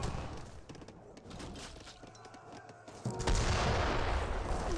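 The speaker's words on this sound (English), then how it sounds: "Does get a good volley there onto those units." A musket volley cracks out in the video game Age of Empires 3, a scattered burst of sharp shots and booms within continuous battle noise that swells louder toward the end.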